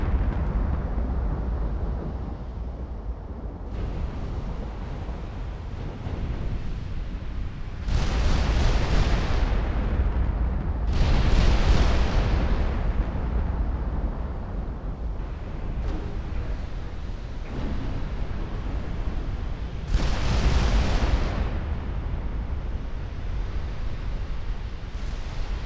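Heavy 19-inch naval guns firing high-explosive shells in a naval warfare game, a run of deep rumbling booms with several loud broadside blasts that each roll off into a long, sustained low rumble, no voices.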